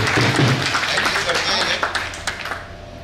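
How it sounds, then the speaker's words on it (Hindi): Loud applause from a farewell-gathering audience, dense clapping filling the hall at first and thinning into scattered claps toward the end, heard alongside crowd noise. "एक जोरदार तालियों के साथ"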